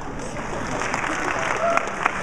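An audience at a Wizard World Reno convention panel claps in a steady, fairly close patter, with voices talking over it and a couple of sharper individual claps near the end.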